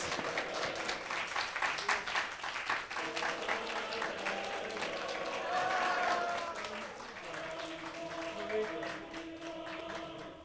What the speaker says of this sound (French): On applaudit Dominique Domas Malinas.